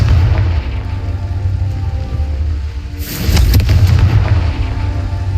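Confringo spell blasts in the video game Hogwarts Legacy go off as loud, deep booming explosions with a rumbling low end, a second burst landing midway, and no talking over them.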